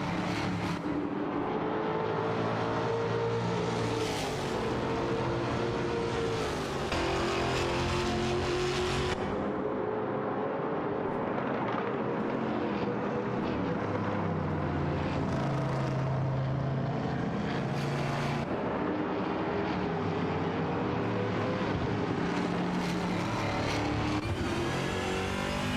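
Race cars in an AI racing video game roar continuously at close range, engines revving and shifting pitch as they accelerate and pass, with layered motor drones and no talk throughout.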